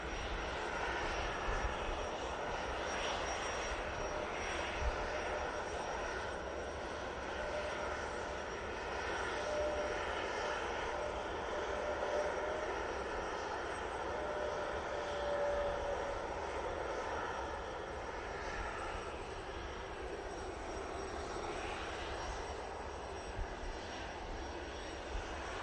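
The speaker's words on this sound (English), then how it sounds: "Turkish A321neo now coming in from Istanbul." A Turkish Airlines A321neo arriving from Istanbul gives a steady, moderately distant jet engine roar that holds evenly throughout, with no voices.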